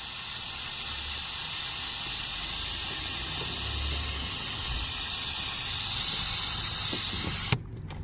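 Compressed air hissing steadily through a venturi vacuum tool hooked to the coolant system of a Hyundai Santa Fe, a loud, close, continuous hiss that cuts off abruptly near the end.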